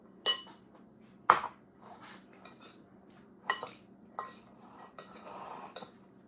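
Spoons clink and scrape against a bowl while tossing a fruit and nut salad with dressing, in irregular bursts of metallic clatter with quiet pauses between, close and moderately loud.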